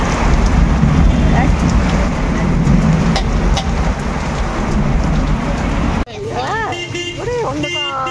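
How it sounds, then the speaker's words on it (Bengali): Heavy rain pours outside a roadside tea stall in a dense, loud wash. Near the end it gives way to a quieter scene where voices can be heard. "দেখো বৃষ্টি হচ্ছে দেখো।"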